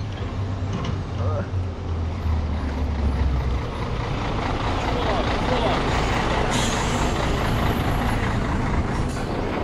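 Heavy truck traffic rumbles continuously through a large city in Bosnia near Gorazde and Visegrad, a loud low drone with passing engines and a brief hiss like air brakes, heard from a bicycle.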